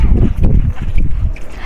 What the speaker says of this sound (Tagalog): Hangin, no?